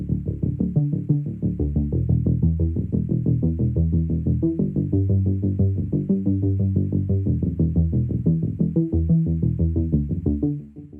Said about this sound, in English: now let's hear what it sounds like with all of our effects